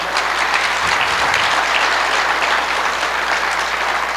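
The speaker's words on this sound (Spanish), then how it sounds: "Dale un buen aplauso al Señor." A church congregation claps loudly and steadily in dense, continuous applause that fills the room. No voices rise above the clapping.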